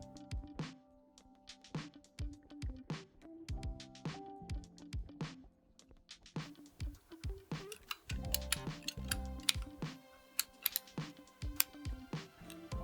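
Keystrokes on a Keychron Q1 keyboard fitted with tactile Akko V3 Cream Blue switches: irregular soft clacks in quick runs and short pauses, fairly quiet and heard alone.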